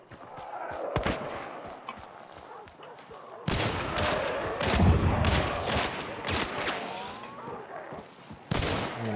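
Gunshots in the Hunt: Showdown game, a few sharp loud reports including a heavy slug shot, with echoing tails and other game noise between them.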